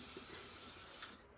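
Aerosol craft lacquer sprayed over soft pastel work on a handmade card: a steady, close, loud hiss lasting just over a second before cutting off abruptly.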